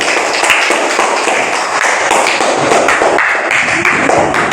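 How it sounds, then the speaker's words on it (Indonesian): Applause from a classroom group of students for group B after a Quran surah recitation: dense, loud clapping from many hands, sustained and close throughout, with no talking over it. "Tepuk tangan untuk kelompok B"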